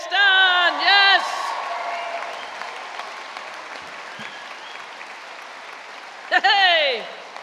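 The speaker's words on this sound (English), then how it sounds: "Let's have a cheer." A graduation audience applauds and cheers in a large hall, with a steady wash of clapping throughout and brief whoops rising at the start and again near the end.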